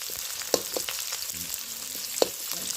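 Chilli peppers, onion and panch phoron spices fry in hot oil for a mutton curry, giving a steady close sizzle broken by a few sharp pops and stirring sounds.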